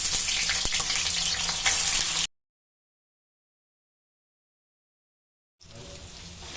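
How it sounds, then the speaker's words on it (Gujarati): Paneer fries in oil in a deep pan, a bright, close sizzle heard in two stretches with a complete silence between them. "પહેલાં આપણે પનીરને ફ્રાય કરી દઈશું."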